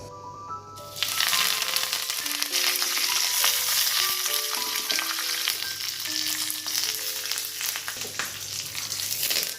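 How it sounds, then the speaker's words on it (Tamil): Curry leaves sizzle and crackle in hot oil while being fried for spiced puffed rice (masala pori), a steady close frying hiss with small pops and the clink of stirring throughout. "இப்போ பொரியில் கறிவேப்பிலை வறுத்து போட்டுடலாம்"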